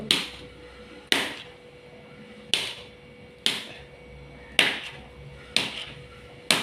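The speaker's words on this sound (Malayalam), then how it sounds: "അപ്പോൾ ഇത് ഒരു 1/2 കിലോ ഇങ്ങനെ കട്ട് ചെയ്തെടുക്കുക." A knife cuts through a block of glycerin soap paste, producing seven sharp chopping thuds at roughly one-second intervals, close and clear with quiet room noise between them.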